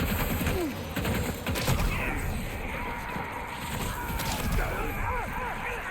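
Gunfire in the video game Death Stranding 2: On the Beach: dense, continuous bursts of shots mixed with crashes and mechanical clatter, with a voice talking over the game sound.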